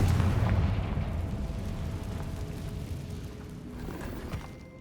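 A fire blast spell going off in the Hogwarts Legacy video game, one loud booming explosion with a long rumbling decay that fades across several seconds.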